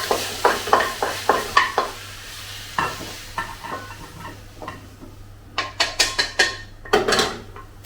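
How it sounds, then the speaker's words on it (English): Stir-fried beef scooped out of a wok, with quick rhythmic scrapes and clinks of a metal spatula against the wok over a faint sizzle, in several short bursts. "I will remove it from the wok."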